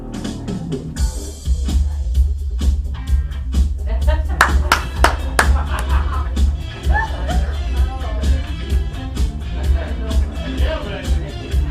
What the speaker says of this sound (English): Give yourselves a round of applause for still being awake